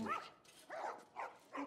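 Dogs bark in The Last Of Us Remastered, with three or four fairly faint, mid-pitched barks and yips at steady intervals, heard alone.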